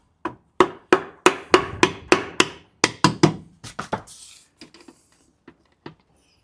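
A hammer whacks a motorbike engine part during an engine strip-down, with a dozen sharp, evenly spaced metallic blows that then thin out into a few lighter, scattered taps.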